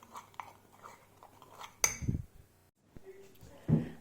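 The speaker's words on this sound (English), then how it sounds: "give it all a mix" A spoon scrapes and clinks in a bowl while mixing microwave dessert batter made with baking powder. There are two short bursts of mixing, separated by a brief pause, close up, with soft noise before them.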